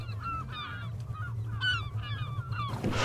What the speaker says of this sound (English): I notice there's a cluster of gulls, likely feeding on a school of feeder fish.